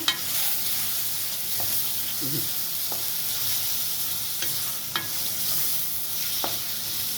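Onion and a chili pepper sizzle steadily in hot oil for Egyptian okra, with occasional spoon scrapes and stirring clicks in the pan throughout; no one speaks.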